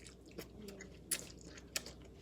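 Close, quiet mouth sounds of someone chewing blue noodles, soft squishy mastication broken by two sharp wet clicks.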